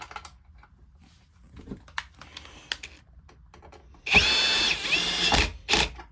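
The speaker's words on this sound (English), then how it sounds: "if you're doing it with the drill, have it on a very low torque setting" A cordless drill on a low torque setting drives small screws into a Dirt Devil Endura Express vacuum housing, with light plastic handling clicks before a loud, close whirring burst of about a second and a brief second spin.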